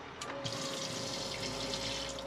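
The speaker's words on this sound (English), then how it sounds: "Is it supposed to be making that noise? Yeah, because that's the submersible pump, isn't it?" A submersible pump runs with a steady mechanical hum and constant tone beneath rushing, splashing water, close by and continuous.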